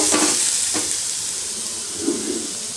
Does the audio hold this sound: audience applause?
no